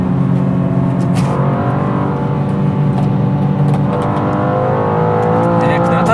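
A car engine running loud and rough, the car's stock exhaust crackling and rumbling steadily and close by, with people talking underneath.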